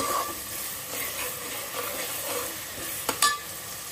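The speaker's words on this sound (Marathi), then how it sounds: "आता याला थोडं आपण कांदा लाल होईपर्यंत त्याला थोडं फ्राय करूया मस्त व्यवस्थित असं।" Onions fry in oil for a mutton curry, a soft continuous sizzle with gentle stirring scrapes and a couple of louder clanks of the spoon against the pan near the end, close up.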